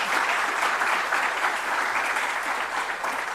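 Sustained, dense applause from a conference audience fills the room at steady loudness, with no voices cutting through the clapping.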